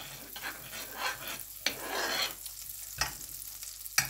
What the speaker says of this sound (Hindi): मक्खन को अच्छी तरह पिघलने देना है।